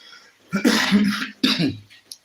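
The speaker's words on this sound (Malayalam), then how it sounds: "ചുമയൊക്കെ പിടിച്ചു" Two harsh coughs in quick succession, close and loud, followed by a brief small sound.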